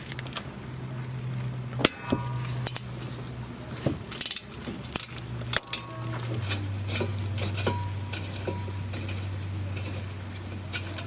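Ratchet working loose the front brake caliper bracket bolts on a 2011-2016 Scion tC, heard as close clicks and sharp metallic knocks over a low steady hum, with short pauses between strokes.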